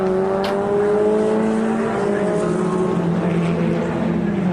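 Historic Formula Ford race car at Croft circuit, its engine droning loud and steady with a rising-then-falling pitch as it turns through a corner, sustained throughout.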